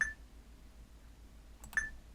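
Two short electronic chimes from a Windows Mobile ActiveSync begin-sync notification on an Eten Glofiish X800 smartphone, one at the start and one near the end, clear and close over a quiet background.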